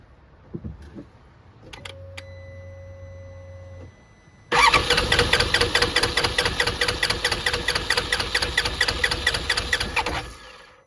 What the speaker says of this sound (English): I'm going to crank the engine